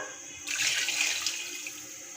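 Water pouring into a cooking pot for chicken pulao, twice the measure of soaked rice, a steady close splashing rush that begins abruptly and continues alone without talk.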